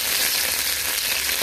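Vermicelli parches in butter in a pot, a dense, even frying hiss heard close and steady without pause or voices.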